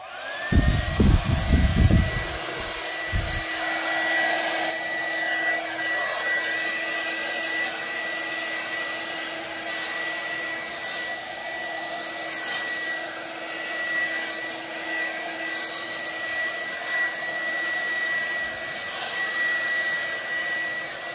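Hair dryer blowing across wet acrylic pour paint on an abstract fluid-art canvas, a steady, loud whirring hum that runs almost unbroken, with a few brief bumps and clatters at the start.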